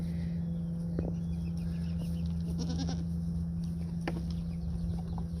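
Goats bleating on a farm after hoof trimming, a few short calls spaced apart over a constant low electrical hum, with other farm animals faintly in the background.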